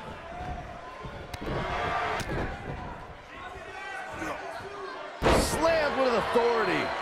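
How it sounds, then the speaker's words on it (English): A wrestler slammed onto the ring mat at a WWF World Tour match, Razor Ramon against the 1-2-3 Kid, a heavy thud bursting out over constant crowd noise and excited commentary. "Slammed with authority."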